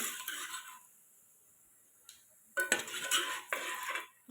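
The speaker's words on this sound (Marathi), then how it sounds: "आता हे छान असा मसाला परतून घेते" A metal spoon stirs and sautés masala with turmeric and Kashmiri red chilli in a pan, making close, sharp clinks and scrapes in short bursts separated by quiet pauses.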